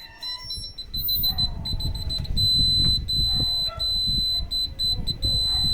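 A newly installed rear parking sensor on a car beeps in a steady, rapid series of high electronic tones while reversing toward an obstacle, loud and close, with someone talking over it and low background rumble.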